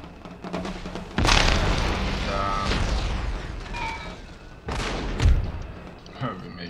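Musket volleys crack from troops lining fortress walls in the Empire: Total War battle, several loud booming bursts over a dense battle din, with a voice talking over parts of it.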